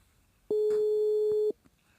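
A telephone busy signal sounds during an outgoing call: one steady electronic tone lasting about a second, loud and close, with faint background noise before and after.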